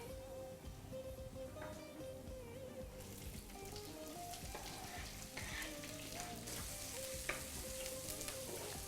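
Onions frying in a pan for a South Indian plantain poriyal, a quiet continuous sizzle with small crackles and stirring clinks, close up with no talk.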